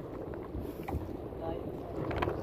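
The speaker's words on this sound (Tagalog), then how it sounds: "Lumalakas yung hangin ah." Strong sea wind roars steadily across the microphone on a fishing boat off Batangas, a dense continuous rush with faint voices beneath.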